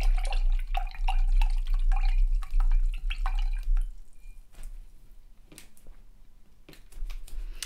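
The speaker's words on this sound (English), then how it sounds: "I'm gonna rinse out my brush because it's gone a little bit muddy" A muddy paintbrush is swished and tapped in a water pot, giving a rapid series of close clicks and splashes for about four seconds, then a few sparse taps and drips.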